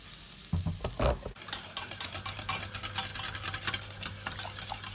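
Onions sizzling in a pan for mac and cheese sauce, a soft steady fry beneath busy, rapid clicking and scraping as a utensil stirs them, quiet and close with no talk.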